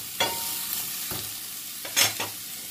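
Chopped onion and ginger sauté in a pan under a continuous hiss. A few distinct spatula scrapes break in, one early, one midway and a pair near the end.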